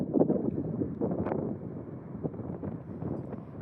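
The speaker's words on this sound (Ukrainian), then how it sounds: "тут великий вітер" Gusty strong wind buffets the microphone outside a residential complex, a rumbling, fluctuating roar, steady and loud throughout, no voices heard.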